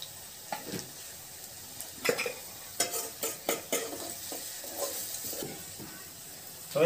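Spices fry in tempering oil with onion and curry leaves, a constant low sizzle broken by repeated clinks and scrapes of a spoon stirring in the pan, close and fairly loud, with no speech.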